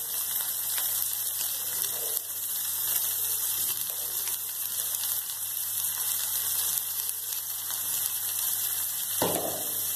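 Vegetables are added to sautéed onions in a pan during festive vegetarian feast cooking, giving a steady loud sizzle and hiss over a constant background hum, with a brief clatter near the end.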